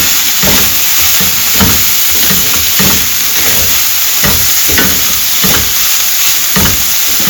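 Carrots and green peas are stir-fried in a pan for veg puff filling. A loud, continuous sizzle sits close by, and regular scraping stirs pulse through it about twice a second.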